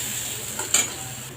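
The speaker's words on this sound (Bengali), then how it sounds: "এখন পেঁয়াজ দিয়ে দিব, কাঁচামরিচ দিয়ে দিব। এখন একটু ভাজতে হবে।" Onion and green chili fry in a pan with a steady, close sizzling hiss, and a brief stirring scrape stands out near the middle.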